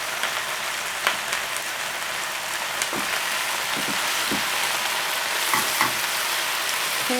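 Spinach and okra cooking in a full pot, giving a steady soft sizzle and bubbling hiss with scattered small crackles and pops, fairly quiet and close throughout.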